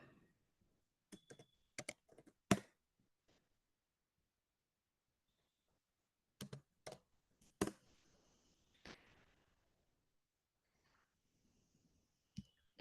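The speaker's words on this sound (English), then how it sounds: "I am just typing shoes here" Keystrokes on a computer keyboard come in short clustered bursts of crisp clicks, separated by long quiet pauses, close and fairly soft.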